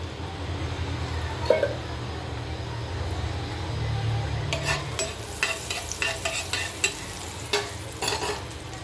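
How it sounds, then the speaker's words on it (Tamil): Marinated chicken pieces frying in a mix of butter and oil, a steady close sizzle with a few sharp pops and scraping clatters, crackling growing busier and louder partway through. "இப்போ ஊறின சிக்கனை ஒன்று ஒன்றா போட்டு பொரித்து எடுத்துக்கலாம்."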